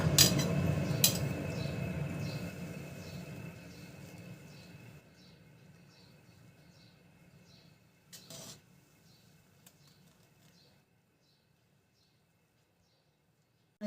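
A metal fork tosses cooked Maggi vegetable noodles in refined oil, giving light scraping and clinking against the pot that fades out toward the end, quiet and near.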